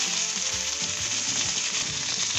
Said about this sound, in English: the idea in this stage is to get a good sear on both sides